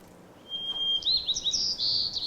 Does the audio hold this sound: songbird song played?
yes